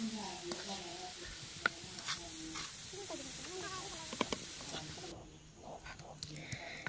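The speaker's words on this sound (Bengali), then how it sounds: "রসুন ভাজা হয়ে গেলে শাক দিয়ে দিয়েছে, এখন শাকটাকে নাড়াচাড়া করে নিচ্ছি" Greens stirred into fried garlic in a pan sizzle with a steady hiss and soft clatter, a voice talking over much of it before the frying noise drops away near the end.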